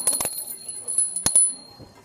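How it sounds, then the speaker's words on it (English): A small bell rings in a few quick bright strikes, close and fairly loud, with a thin high ringing tone lingering between them in a quiet room. "Ring the bell."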